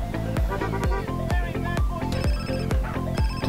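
In GTA San Andreas, an in-game phone rings with a steady, repeating electronic tone, clear and prominent with no talk over it.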